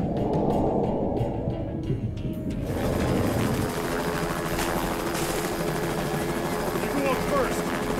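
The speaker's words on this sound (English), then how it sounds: "Send 2 more helicopters, fast." In a monster action movie, steady rotor and engine drone from helicopters fills the clip, loud and continuous, with shouted voices over it at the start.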